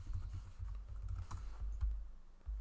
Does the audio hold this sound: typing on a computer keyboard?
yes